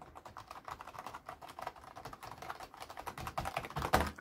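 Rapid, steady clicking of a budget Frisby FK-4865QU computer keyboard being typed on, close and fairly quiet, ending with a slightly louder key press.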